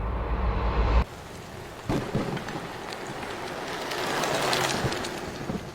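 A thunderstorm rolls over a house during a power outage, with heavy rain hissing steadily and a deep rumble of thunder at the start, then a soft patter that slowly swells again.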